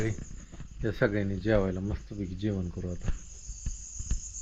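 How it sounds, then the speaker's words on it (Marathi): Crickets chirp steadily at night as a thin, high, continuous trill, faint and constant beneath someone speaking over a rural outdoor meal. "रातकिड्याचा आवाज येतो की."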